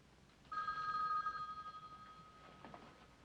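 A telephone bell rings in a dim evening room in a 1960 film drama, one sustained ring that sounds loud and then trails off slowly, with faint background noise and no talk over it.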